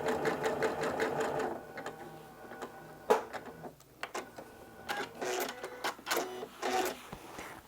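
A sewing machine stitches a vintage doily onto a table runner in short bursts of rapid mechanical clatter, separated by pauses and light clicks as the fabric is repositioned, close by and moderately quiet.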